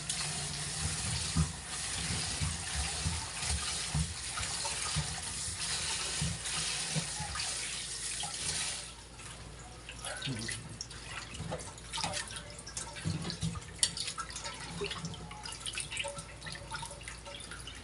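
Tap water runs loudly as a red snapper fish is rinsed and handled under it, then the flow eases to quieter splashing and dripping.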